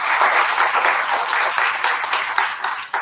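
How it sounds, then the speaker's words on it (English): Audience applause at a business book award ceremony, a dense burst of many hands clapping that holds steady and then starts to thin at the end. "Give her a big round of applause."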